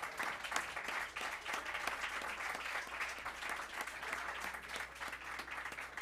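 Audience applause at a jazz quartet concert, a sustained burst of many hands clapping with dense, rapid claps, lively and fairly close, no speech over it.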